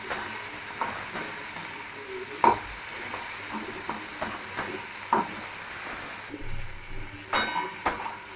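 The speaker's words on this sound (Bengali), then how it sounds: "দিয়ে দেবো টমেটো কুচিগুলো, আর দেবো ওটা কাঁচা লঙ্কা গোটা, ওটাকেও আমরা হালকা করে করে দেবো, ফ্রাই করে নেবো" Chopped tomatoes and whole green chilies fry in a pan with a low, steady sizzle, broken by repeated stirring scrapes and a few sharper clinks of the spoon near the end.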